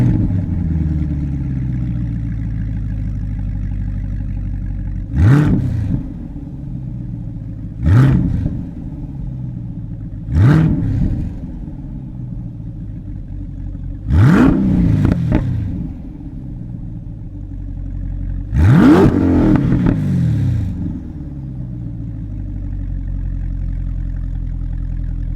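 A 2027 C8 Corvette Grand Sport's 6.7-liter V8 idles with a deep, steady rumble, then blips sharply five times at regular intervals, each rev surging loud and falling back to idle, with no talking.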